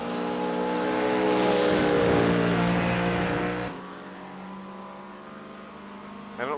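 Porsche GT3 race cars blast through the esses at a championship round, a loud, high engine howl with shifting harmonics that swells, then drops to a steadier drone before another car climbs in pitch at the end.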